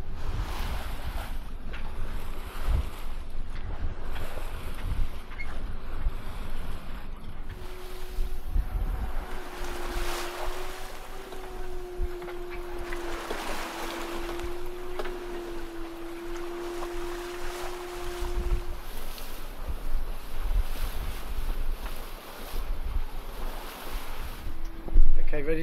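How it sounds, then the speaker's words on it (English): A sailboat races at nearly six knots through the Sound of Mull in Scotland. Water rushes constantly along the hull and wind buffets hard, with a faint tonal hum rising and fading midway. "we're doing nearly 6 knots through the water, so we're flying along"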